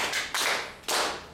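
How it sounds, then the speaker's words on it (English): Claps from a small audience at a Tanzanian intellectual property rights network meeting, coming in two short bursts of hand claps that start sharply and fade, fairly close and with no talk over them. "Can we clap for"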